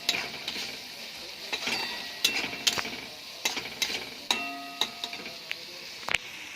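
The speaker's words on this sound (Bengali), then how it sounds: "হলুদ গুঁড়ো, লঙ্কা গুঁড়ো আর জিরে গুঁড়ো দিয়ে ভালোভাবে কষিয়ে নেব" Shrimp curry masala of turmeric, chilli and cumin powder frying in a pan, a quiet sizzle under frequent light clinks and scrapes of a metal spoon against the pan.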